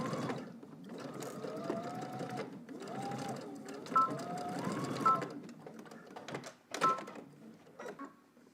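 A home sewing machine stitches a garment collar. The motor runs in uneven bursts with a whirring, rhythmic needle clatter, pausing and restarting several times at moderate, close volume.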